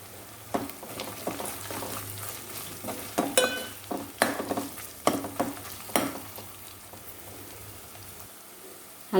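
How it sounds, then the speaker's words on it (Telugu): Onions and green chillies fry in a pan for a chicken gravy curry, giving a soft continuous sizzle broken by repeated sharp clacks and scrapes of a spoon stirring against the metal. "అలా ఉల్లిపాయలు వేగుతున్నప్పుడు చూస్తున్నారా"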